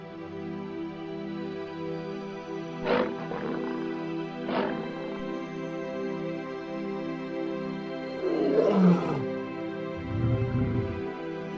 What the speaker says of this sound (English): The lion pride roars fiercely, but the hyenas do not retreat